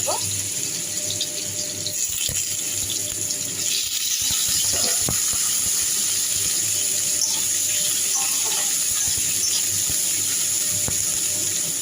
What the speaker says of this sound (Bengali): কুমড়োটা ভালো করে ভেজে নেব এবার